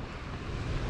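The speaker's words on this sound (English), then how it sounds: "It's kind of windy right now." Wind blusters across the microphone on a California surf-fishing beach beside choppy water, a brief, loud, rough rush with no voices.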